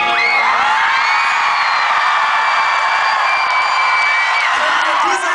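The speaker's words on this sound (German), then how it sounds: "Jetzt wisst ihr ja ungefähr, wie Kreischen geht." A large rock-concert crowd at a show in Ingolstadt screams loudly and enthusiastically, a dense, sustained wall of high-pitched shrieks and whoops that holds steady for several seconds, with no talk over it.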